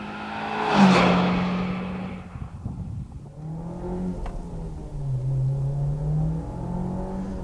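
A Mitsubishi Evo on fresh coilovers out on the road, with a close engine burst and revving early on, then a steady cabin drone of engine and road noise with gear-shift dips in pitch.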